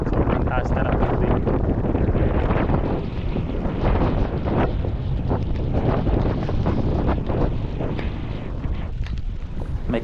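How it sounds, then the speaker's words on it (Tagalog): Strong wind at Calamba Baywalk, buffeting the microphone in a loud continuous roar with gusty surges throughout. "May kalakasan talaga ng hangin."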